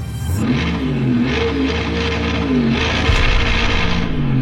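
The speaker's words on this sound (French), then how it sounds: "Ça, c'est le jeu de voiture." An arcade car racing game plays loud engine sound as the player accelerates, a close, sustained motor tone whose pitch wavers and climbs over several seconds.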